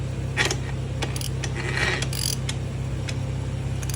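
A Honda TRX450ER ATV with a hard-starting engine is cranked over by its starter, a steady mechanical whir with a low rhythmic chug and intermittent metallic clicks close by, with no talking.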